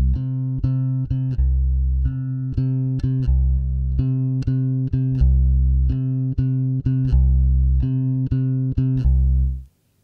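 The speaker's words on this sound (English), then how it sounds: "This is an example of a bass guitar that is in phase." A clean, full bass guitar recorded in phase plays a repeating rhythmic line of plucked low notes, steady and loud, ending with a short decay.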